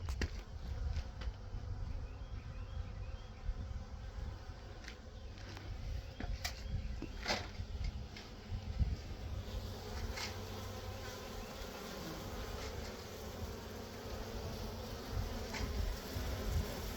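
A honeybee swarm buzzes densely and continuously during a swarm rescue outdoors, with many close wingbeats forming a steady hum and a few individual bees passing nearby.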